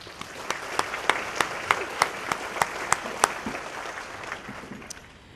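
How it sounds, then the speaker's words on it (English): Audience applause for a sponsor at the 2016 Golden Apple Ceremony, a dense steady wash of many hands clapping with a few louder claps standing out in a regular rhythm, fading toward the end. "Let's give them a round of applause."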